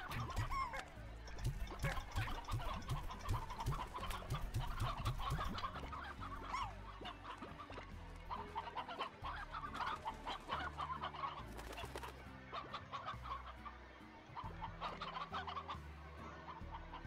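Chickens cluck in the farming game Slime Rancher, a busy, steady stream of many overlapping clucks and squawks mixed with game sounds and music, with no talking.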